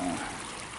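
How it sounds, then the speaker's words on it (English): Small creek trickling at a trail crossing in Westcott Beach State Park, a steady close wash of running water filling the brief moment without pause. "Nice little creek crossing right here."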